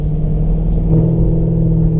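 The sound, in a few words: V8 car bimodal exhaust cutting in and out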